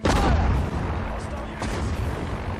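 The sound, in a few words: artillery fire in the video game Sudden Strike 4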